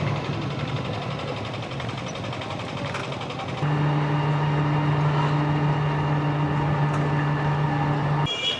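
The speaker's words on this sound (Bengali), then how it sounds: "আর এইরকম একটা স্টিয়ারিংওয়ালা টোটোয় আমার প্রথম ওঠা।" A steering-wheel toto, a small electric rickshaw, hums steadily on a ride through the Sundarbans area, a broadband road rumble and motor whine with a louder, tonal drone setting in partway through and holding steady to the end.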